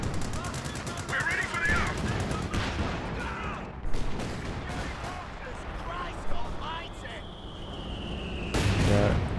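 Anti-tank guns pound a Churchill tank in Company of Heroes 2, with repeated sharp gunfire bursts and rattling shots over a dense battle din, while a voice talks over the action throughout.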